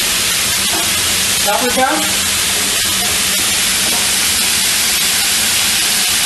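Chopped onions go into a hot MKN FlexiChef pan, giving a steady broadband hiss that runs the whole time beneath a person talking nearby.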